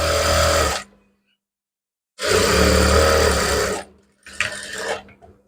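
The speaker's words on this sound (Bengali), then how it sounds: "যার জন্য আমি দাগে দাগে সেলাই করে নিচ্ছি" Sewing machine stitching a kameez sleeve seam along marked lines, running in loud close bursts of steady whirring, about a second, then a longer stretch, then a short uneven spurt, separated by silence.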